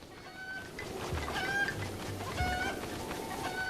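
Cucco chickens cluck from the Zelda: Breath of the Wild video game, short repeated tonal clucks over a steady hum of in-game ambience and background music.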